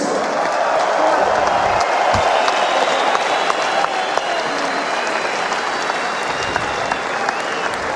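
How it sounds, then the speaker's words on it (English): A boxing arena crowd gives loud, continuous applause and some cheering for two heavyweight fighters after a twelve-round bout, with a broad, steady roar of clapping and an amplified voice over it. "can we please have a round of applause for these two fighters"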